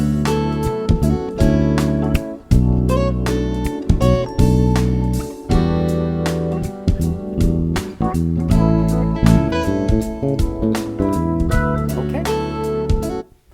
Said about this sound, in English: this fill, we're going to introduce a little bit of a 16th note triplet in there.